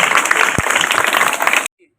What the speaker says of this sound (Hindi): अब दोनों हाथों से तालियां बजा दें और जोर से तालियां बजाएं